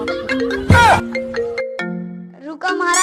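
A melodic phone ringtone chimes for an incoming call, a sequence of bright electronic tones rising and stepping in pitch, loud and close, with a short burst of noise partway through.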